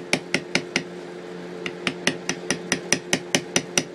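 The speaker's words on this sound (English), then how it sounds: "And now we're at the heaviest amount of beveling as possible." Heavy hammer or mallet strikes on a leather beveling tool, a steady run of sharp, evenly spaced taps close up with a faint hum underneath.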